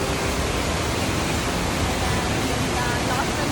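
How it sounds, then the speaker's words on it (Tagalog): Chiwata Falls pours with a dense, steady roar of rushing water, loud and close, filling the whole moment without a break. "Ayan, lakas ng tubig"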